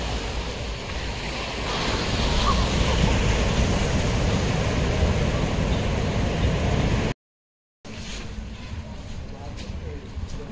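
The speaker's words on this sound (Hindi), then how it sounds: "समुद्र की लहरें तूफान मार रही है।" Sea waves roll in at Anjuna Beach in Goa on a stormy midday. The surf roars loud and close, with heavy wind noise on the microphone, then cuts out briefly and returns more softly.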